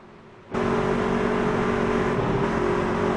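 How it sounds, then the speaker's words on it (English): Race cars at Daytona accelerating to the green flag on a restart, a loud dense engine roar that bursts in abruptly after a quieter opening half-second and holds steady and close, with no talk. "let you listen to the sounds here at Daytona as the race cars come to the green on lap 97"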